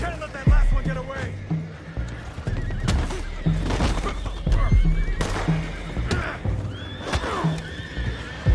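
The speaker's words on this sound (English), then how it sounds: "Boys, go find out about those horses down below." Horses in Red Dead Redemption 2 whinny and neigh repeatedly over steady clip-clopping hooves, with game voices, gunfire-like bursts and other effects layered in between.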